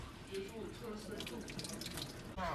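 Tap water runs steadily while hair is rinsed during a natural hair wash, a close, continuous splashing flow that cuts off near the end, with faint voice beneath.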